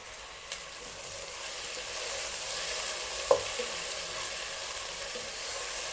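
Tomatoes fry and sizzle in a pan for Hyderabadi chicken dum biryani, with a steady hiss and a few soft stirring scrapes and clicks, no voices.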